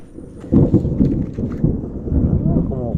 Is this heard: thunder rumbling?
yes